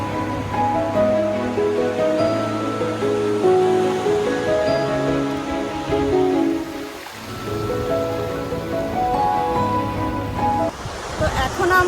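Sea waves wash steadily at Udaipur beach near Digha, a broad surf roar running under voices and tonal sounds that come close by.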